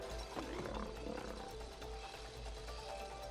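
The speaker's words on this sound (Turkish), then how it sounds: "Sonra aslan." A lion roars in the It Takes Two video game, a low rumbling growl heard faint and steady over several seconds.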